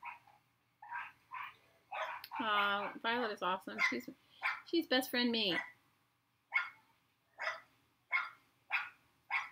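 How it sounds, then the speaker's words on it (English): Several dogs belonging to a neighbor bark in repeated short bursts at a moderate distance, continuing on and off while a person talks over part of the sound. "I'm sorry, my neighbor's dogs."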